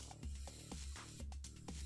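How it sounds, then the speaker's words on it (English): A miniature-painting airbrush sprays paint in short, rhythmic hissing bursts, soft and close, with no voices. "Then we're going to spray,"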